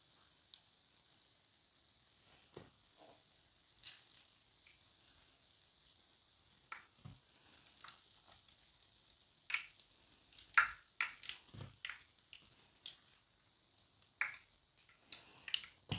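Piroshki pastries fry in hot oil, a quiet sizzle under scattered crackles and clicks that grow denser and louder toward the end, close by with no talking.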